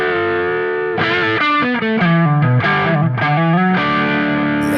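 Sustained electric guitar played through the neck pickup, loud distorted notes with a chorus-like shimmer ringing out continuously as a melodic line bends and moves between pitches.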